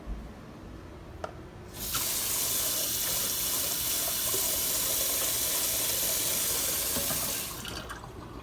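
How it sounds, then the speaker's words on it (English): Kitchen tap turned on to fetch more water, a loud steady rush of running water starting after a brief click and continuing for several seconds before shutting off, close by with no talk. "I go back and get more water"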